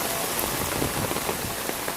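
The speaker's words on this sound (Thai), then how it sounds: "ฝนตกหนักมากครับ" Heavy rain pours down continuously at Ban Mae, Khok Loi, a dense, loud hiss of drops pattering on surfaces with no pauses and no voices.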